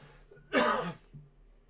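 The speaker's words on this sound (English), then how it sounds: "Sorry for the cough, guys." A single harsh cough, close and fairly loud, a short burst of breathy noise rising out of a quiet room.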